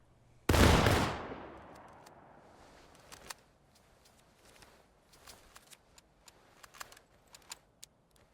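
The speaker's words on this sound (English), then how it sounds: "Rear rank, take aim, 120-yard targets. Steady. Fire." A rear-rank musket volley in the War of Rights game: one loud, massed crash of shots that rolls off into a long fading echo, followed by faint scattered clicks and rattles of handling.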